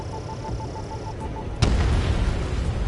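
A heavy bomb blast hits anti-air radar vehicles in a console war game, one sudden loud boom with a rumbling tail. Before it come a steady tone and a low drone of battle.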